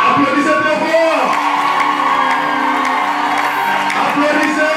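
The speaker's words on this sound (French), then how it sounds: "Applaudissez très fort!" Wedding guests at a nuptial blessing cheer and whoop loudly together, a sustained roar of voices from a close, packed crowd with a steady tonal backdrop throughout.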